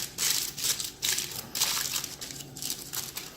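Aluminium foil is wrapped tightly around ribs. Close, loud crinkling and crumpling comes in repeated bursts without talk.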